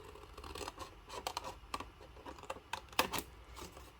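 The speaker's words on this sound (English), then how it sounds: "what we need to do is we need to cut here" Scissors or a blade cut through card while making a flip lid box, giving a string of short, crisp snips and scrapes in an irregular rhythm, close and fairly quiet, with no talking.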